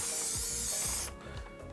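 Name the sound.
cooking spray greasing a cake pan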